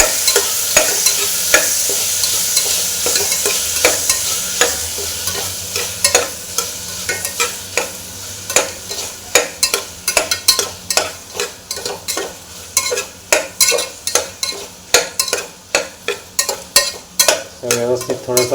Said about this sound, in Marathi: आणि हे व्यवस्थित असं फ्राय करून घेणार थोडंसं